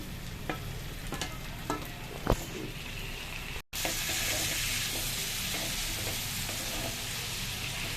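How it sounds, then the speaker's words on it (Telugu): Steady crackling sizzle of tomato pieces frying in a hot pan, with utensil clinks early on, a brief cut, then louder uninterrupted sizzling. "ఇప్పుడు టమాటా ముక్కలు కూడా వేస్తున్నానండి"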